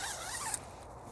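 A zipper on a patrol sleeping bag from a modular sleep system is drawn in one quick, faint pull of about half a second, a thin, close rasping stroke that stops abruptly into near silence.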